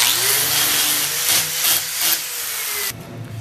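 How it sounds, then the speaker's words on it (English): Flap wheel grinding a welded metal shelf bracket, a loud abrasive whir with rising and falling scraping bursts, then the tool winds down near the end. "To the outside, I do a flap wheel,"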